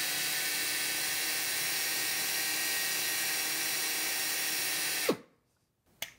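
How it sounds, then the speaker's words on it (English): A pneumatic torque multiplier runs with a steady, loud, high-pitched whine and air hiss that holds for about five seconds, then cuts off abruptly, followed by a brief click. "Regulator pressure must be set while the tool is running."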